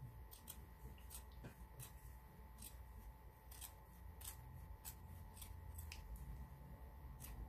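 Small scissors trimming the border of a handmade Valentine card make quiet, close snips in an uneven rhythm of about a dozen crisp cuts over a faint background hum, and no one speaks.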